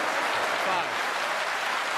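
A crowd at the 2021 World Snooker Championship final claps in a dense, even wash of applause. It sounds somewhat distant and holds steady for about two seconds.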